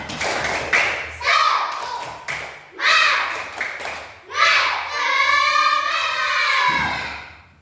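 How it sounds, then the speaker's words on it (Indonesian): Students in a classroom perform a rhythmic spirit clap, sharp patterned claps in groups alternating with children's chanting voices, ending in a loud drawn-out group shout. "Tepuk semangat"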